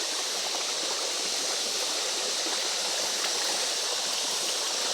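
A stream flows steadily, a continuous bright rushing hiss of water heard close and alone, with no voices.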